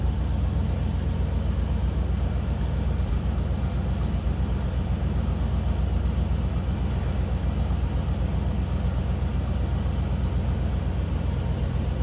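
A 1954 Cadillac Fleetwood sedan's 331 V8 runs steadily at idle, with a continuous, even low rumble close to the car and no voices.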